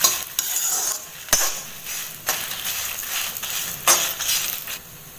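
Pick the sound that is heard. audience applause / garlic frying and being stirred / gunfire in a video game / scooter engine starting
garlic frying and being stirred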